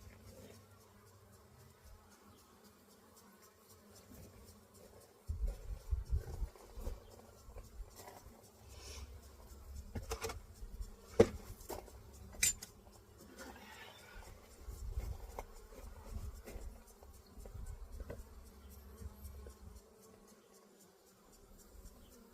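Honeybees buzz low and steady around an opened hive during an inspection, a close, fluttering drone that swells after the first few seconds and continues with occasional sharp taps and clicks of handling.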